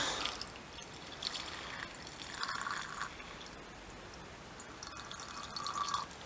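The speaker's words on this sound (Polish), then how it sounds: "Najpierw dodaję trochę wody." Water is poured into a vessel, a light, close trickle and splash that runs in two brief bursts against a quiet room, with no voices over it.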